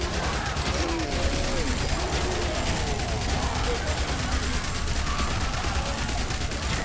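SMG gunfire in the zombie survival game Yet Another Zombie Survivors: a continuous rapid rattle of shots under a steady wash of game noise, with faint mechanical clicks, a voice talking lightly over it.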